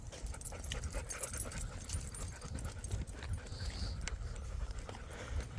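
Dogs on an outdoor training walk, panting in quick rhythmic breaths close by, with paw and footstep noises and faint rustling throughout.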